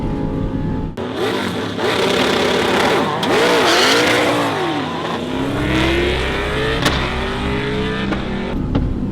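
A street car launches hard in a race, the engine screaming up through rising and falling rev sweeps with gear changes, loud and close throughout, with no talk.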